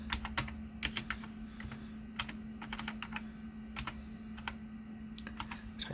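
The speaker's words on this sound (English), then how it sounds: "type in ping.yahoo.com" Keys clack on a Mac SE/30 keyboard in quick, uneven bursts of typing, close and fairly quiet over a low steady hum, with no voices.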